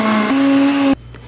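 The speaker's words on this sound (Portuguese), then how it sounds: "Agora eu vou bater, vai bater, né? Não sou eu, o liquidificador vai bater." Kitchen blender whirring as it mixes cornmeal cake batter with oil, a loud steady motor whine that shifts pitch once partway through, then cuts off abruptly into near silence.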